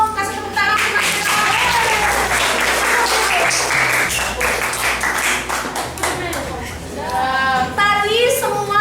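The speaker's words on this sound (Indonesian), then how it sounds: "Kasih tepuk tangan untuk mereka." A classroom audience of students claps in a sustained burst of applause after a group presentation, steady and dense for several seconds, with voices and a few louder claps rising near the end.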